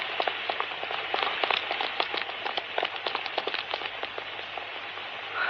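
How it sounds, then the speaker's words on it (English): Heavy rain pours steadily outdoors as a radio drama sound effect, a dense hiss with scattered sharper drops spattering throughout, fairly close and continuous with no voices. "Oh, Lord, it's pouring again."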